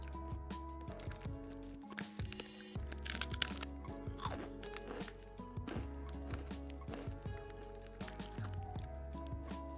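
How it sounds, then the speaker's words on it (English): Someone bites into a super crunchy takoyaki snack, and loud, close crunches repeat over several seconds against a musical background. "Listen to that crunch."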